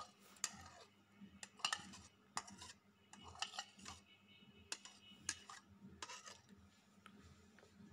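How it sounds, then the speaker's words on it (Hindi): A spoon stirs spices into yogurt in a bowl, giving repeated faint clinks and scrapes against the dish in an irregular rhythm, alone without talk. "और इसमें जो मसाले अभी आपको दिखाए थे ये सारे मिक्स कर लें।"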